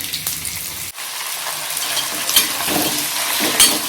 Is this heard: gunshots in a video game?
no